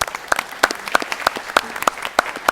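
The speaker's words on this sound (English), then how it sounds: "Yes, round of applause." Steady clapping from a small audience at a school board of education meeting, evenly paced claps rising and falling briefly.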